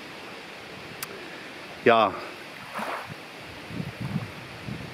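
Strong wind rushes through the leafy treetops in Denmark, a steady broadband roar that runs throughout, with a short spoken word and a few faint handling sounds over it.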